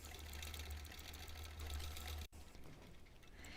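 A long-arm quilting machine stitching steadily through a Double Wedding Ring quilt topper as fabric is guided under the needle, a continuous mechanical hum that drops out briefly near the end, then resumes more faintly.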